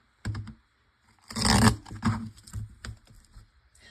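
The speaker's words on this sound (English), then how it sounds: "I'm going to go ahead and run it through the sticker maker" Small brown foiled cardstock hearts feed through a sticker maker, giving a short scrape followed by a louder rolling, crinkling burst and a few trailing rasps. The sound is close and isolated.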